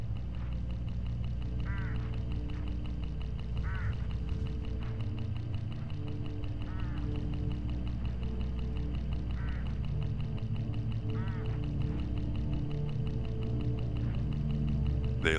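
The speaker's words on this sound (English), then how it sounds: "Look, hooded crows all along this road." Hooded crows call along a road in the Hitchhiker video game, short cawing calls repeating every couple of seconds over a steady, loud ambient background.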